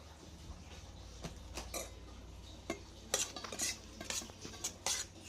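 Spoon clinking and scraping against a bowl while breakfast ingredients are mixed with ground black pepper and tomato sauce: scattered light metallic taps and ticks, close and fairly quiet, with no voices.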